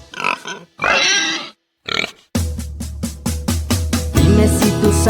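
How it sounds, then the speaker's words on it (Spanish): A cartoon pig oinks and grunts in a series of short, loud bursts near the start, followed by bouncy children's music with a steady beat. "Dime si tú sabes cómo hace el puerco."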